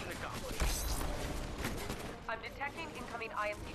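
Player weapon gunfire in the Titanfall video game rattles off in rapid bursts under a voice talking over the action, with bright sharp reports and mechanical clatter.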